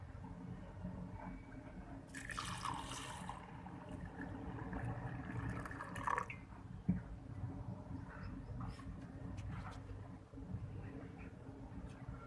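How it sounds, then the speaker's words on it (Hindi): Water is poured into a bowl of moong dal set to soak in a home kitchen: a soft splashing rush starts partway through and runs for about a second, then a shorter splash follows, over a quiet room hum. "अब इसमें पानी डाल देंगे।"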